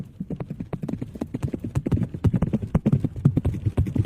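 Rapid clip-clop of several horses' hooves, a steady clattering rhythm drawing closer and growing louder.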